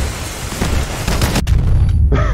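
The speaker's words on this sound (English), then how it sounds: "Apparently he killed me with a rocket." In the vehicle combat game Crossout, a loud rocket blast booms and crackles amid ongoing gunfire, followed by a rumbling aftermath and a faint whining tone.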